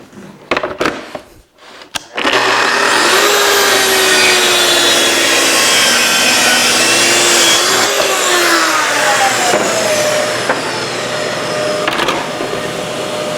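A power saw spins up and cuts a board along a TSO GRS-16 guide rail square, a loud continuous close whine and rasp after a few brief knocks, holding steady to the end.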